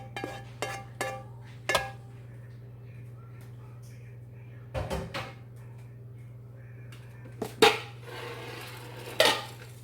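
A pan of cooked vegetable filling for stuffed spaghetti squash is scraped out into a bowl, with scattered clinks and scrapes of a utensil against metal over a low steady hum, each one brief and close.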